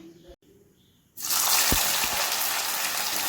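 Chopped bitter gourd and green chilli hit hot oil with a sudden loud, steady sizzle that keeps going, after a quiet stretch with some faint sounds.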